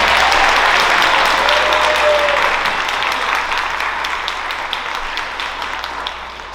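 Audience applause at a school band concert fills the room, loud and steady from the start and slowly thinning toward the end, with no talk over it.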